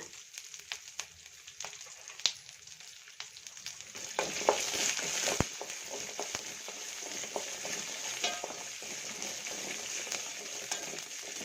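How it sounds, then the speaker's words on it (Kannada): Ginger and green chillies sizzle and crackle steadily in a pan for paneer pulao, with sharp clicks of stirring throughout, growing a little louder midway, no voices. "ಇವಾಗ ಚೆನ್ನಾಗಿ ಹುರ್ಕೊಳ್ಳೋಣ"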